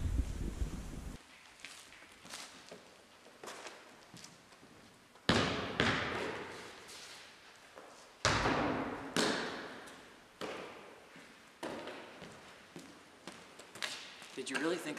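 A basketball bounces and is shot inside an abandoned high school, giving hollow thuds with reverberant echoes that decay between bounces, some sharper impacts standing out, with a person talking at times.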